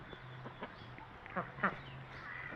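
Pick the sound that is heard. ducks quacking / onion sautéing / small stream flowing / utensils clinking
ducks quacking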